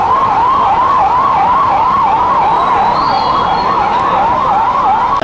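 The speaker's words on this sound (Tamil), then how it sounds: "தயவுசெய்து ஆம்புலன்ஸ் வழி விடுங்க." An ambulance siren wails loudly and steadily in a rising-falling cycle as it passes through a street protest against the farm laws in Royapuram, North Chennai. No voices are heard over it.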